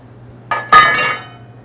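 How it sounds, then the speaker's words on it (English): A soft French-style three-fold farmer's omelette is scooped out onto a plate, giving two quick close clinks of utensil against plate, the second one louder with a short ringing tail. "And we'll scoop it right out, right onto the plate"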